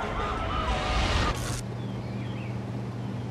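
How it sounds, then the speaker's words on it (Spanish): An ambulance siren wails over a busy city traffic rumble, loud for just over a second before cutting off. Steady low traffic noise continues afterward. "Y la sirena de una ambulancia alcanzaba los 120 decibelios."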